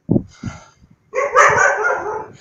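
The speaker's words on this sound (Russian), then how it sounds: "Собаки чувствуют себя как хозяевами" Dogs barking at a Buddhist temple in Thailand, a few sharp yips near the start, then a louder, sustained burst of barking and whining that fills the second half, fairly close.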